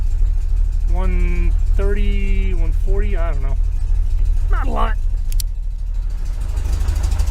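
A 1973 VW Super Beetle engine fitted with Dellorto FRD 34 carburetors and a balance tube idles with a steady low rumble close by, while someone talks over it.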